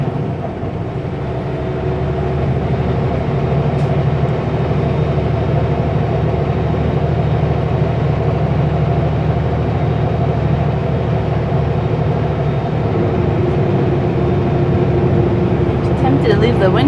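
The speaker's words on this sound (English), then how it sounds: "The wind noise is loud." Steady loud wind rush through an open cab window of a Super B semi truck driving the highway between Grand Forks and Midway, blending with low engine drone and road rumble throughout.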